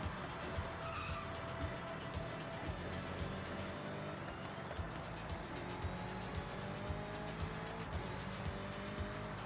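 A Honda CR-Z driven in Forza Horizon 6, a steady faint engine hum with rising and falling whine as it accelerates, mixed with occasional tire squeal and skidding, heard continuously without speech.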